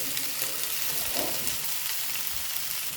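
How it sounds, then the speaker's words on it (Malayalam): Okra is sautéing in a hot pan for a Kerala-style thoran. A soft, steady sizzle carries on throughout, with a faint stir partway through and no voices. "വെണ്ടയ്ക്ക് വഴറ്റാൻ ഇട്ടിരിക്കുന്നു"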